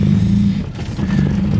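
BMW E30 with a swapped S52 engine and individual throttle bodies accelerating, a loud close low engine drone that dips briefly mid-pull and then resumes, heard from inside the car.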